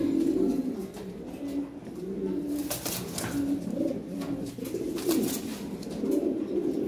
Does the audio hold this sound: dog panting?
no